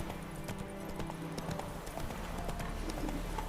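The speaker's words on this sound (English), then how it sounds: "Watch out for the horse!" Roach, the horse in The Witcher 3, clip-clops along at a steady walk, hooves knocking in an even rhythm at moderate distance, with faint game background sound underneath.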